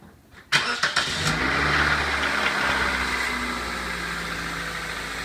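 Toyota Matrix engine cranks briefly and catches after an oil change, then settles into a steady smooth idle, close and moderately loud.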